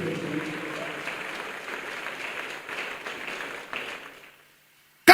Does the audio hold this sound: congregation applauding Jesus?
yes